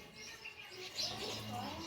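Sparrows chirp faintly in a quick flurry of small, high tweets around a home, over low background noise during a short moment.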